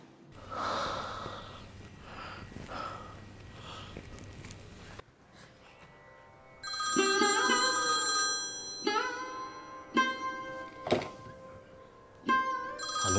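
A telephone rings several times in a quiet room, a clear tonal ring that cuts in sharply and repeats in bursts after a stretch of soft breathing and faint background hum.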